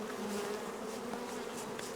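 Honey bees buzzing around hive frames during queen breeding work, a dense steady drone of many bees close by with no talk.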